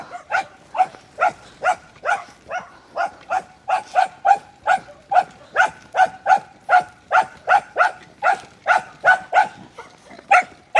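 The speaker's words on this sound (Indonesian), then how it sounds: "Ngegonggong." A dog barks steadily and repeatedly at a traditional winter market in Moldova, roughly two loud, close barks per second in an unbroken run, with no voices over it.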